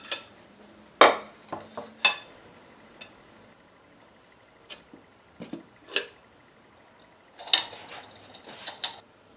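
A plate and dish are handled while an egg flan is turned out, giving sparse, sharp clinks and taps scattered through a quiet room, some isolated and one quick cluster near the end.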